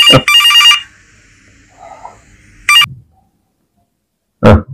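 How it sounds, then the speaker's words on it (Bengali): A telephone rings in short electronic bursts: a quick double ring, another brief ring after a pause, then one more after silence, each loud and close. "ফোনটা এসে কেটে গেল।"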